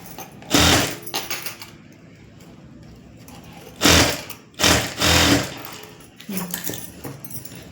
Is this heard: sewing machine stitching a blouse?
yes